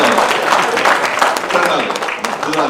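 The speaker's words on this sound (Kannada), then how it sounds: "ಇವರಿಗೂ ಕೂಡ ಚಪ್ಪಾಳೆ" An audience claps at a Kannada film event, a steady, dense wash of applause that holds for a few seconds with voices mixed in beneath it.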